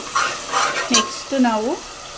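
Masala for chicken biryani fries in oil in a pot, with steady sizzling, a few stirring scrapes and brief clinks of a spoon against the vessel. Faint voice-like tones rise near the end, with no clear speech.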